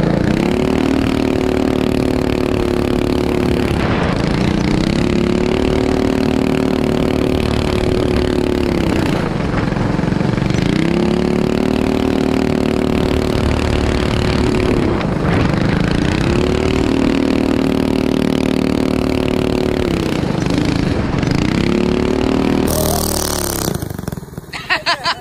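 A go-kart engine racing around a homemade dirt racetrack, its loud buzzing note rising and falling in regular laps as it passes close by, with voices chatting over it and a sharp change near the end.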